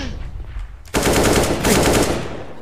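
Golden AK rifle fired in Counter-Strike: Global Offensive, a dense, loud automatic burst cutting in abruptly after a quieter moment and rattling steadily for nearly two seconds.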